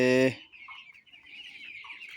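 An eight-day-old broiler chicken on a scale gives one loud, brief call, then keeps up faint, thin, high peeping calls that run unevenly through the rest of the moment.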